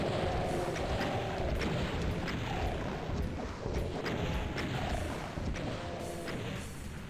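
Rocket launcher blasts in the classic shooter DOOM II: repeated booming explosions over a dense, continuous roar of game noise, hitting at a steady pace throughout.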